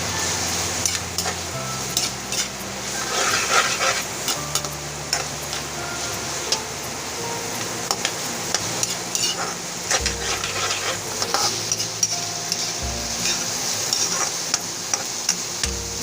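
Onions sautéing in a pan for chicken intestine sisig, a constant close sizzle with frequent clicks and scrapes of a spatula stirring, no voices.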